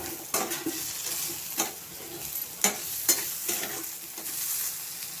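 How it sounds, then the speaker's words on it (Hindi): Boiled potatoes, each cut into four pieces, fry in a pan with a soft, continuous sizzle and a few sharp clinks of a utensil against the pan. "सिझा आलू को आमे 4 पीस करी भाजी दवा।"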